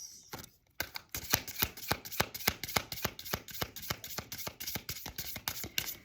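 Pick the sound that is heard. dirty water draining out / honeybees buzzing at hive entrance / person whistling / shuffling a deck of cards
shuffling a deck of cards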